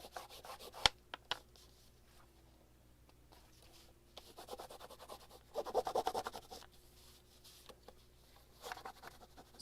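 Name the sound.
rubbing to smooth out paper in junk journal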